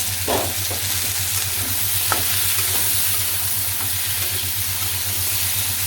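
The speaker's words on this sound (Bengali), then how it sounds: "এই পাশে যে সবজি ভাজি হয়েছে" Vegetables fry in a pan with a steady, loud sizzle and hiss, and a few scraping stirs of a spatula break through the continuous crackle.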